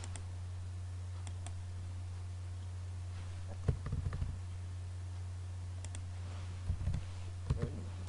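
Sparse clicks of a computer keyboard during AutoCAD drafting, with a few separate keypresses and a short cluster of taps like pressing Enter, over a steady low electrical hum.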